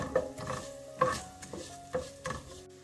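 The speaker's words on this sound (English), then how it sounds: "Keep on sauteing until the color changes." Coriander seeds and chilies being sautéed in a pan, heard as a quiet series of clinking, scraping stirs at roughly half-second intervals over a faint sizzle, close up and without talking.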